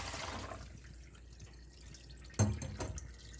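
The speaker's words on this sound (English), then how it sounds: "take these cashews, strain off the water" Soaked cashews being strained, with a brief splash and a few scattered drips of water at close range, set against quiet background hiss.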